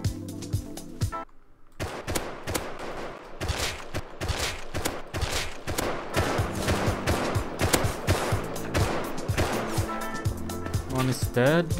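Rapid bursts of automatic gunfire from the survival shooter game Rust, dense overlapping shots and volleys running almost throughout, loud and close, with a brief silent gap early on and voices underneath.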